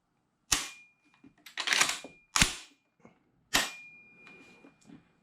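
The trigger of a reassembled Ithaca Mag 10 shotgun is dry-fired, giving several sharp, loud metallic clicks and snaps close by. Fainter mechanical rattles and clacks fall between them, in a quiet room with no talking.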